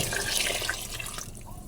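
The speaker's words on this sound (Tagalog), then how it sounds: "Lagyan na po natin ng tubig." Water pours into a cooking pot of papaitan soup with kamias as a steady, hissing splash that runs throughout at moderate volume, with no voices.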